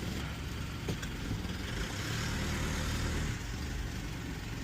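Car engines idle at a fuel station, a steady, continuous low rumble with a broad hiss that holds evenly throughout and has no voices over it.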